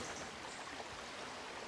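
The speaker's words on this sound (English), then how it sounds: "The adit spews this cloudy water into the river day in and out, 24 hours a day" Cloudy mine water pours steadily from an old adit into a small Cornish river, a constant broadband rush of flowing water with no breaks, heard fairly close and alone.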